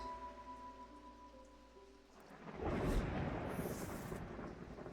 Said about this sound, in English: I need St. Cedric's thunder and quickly while the storm's raging.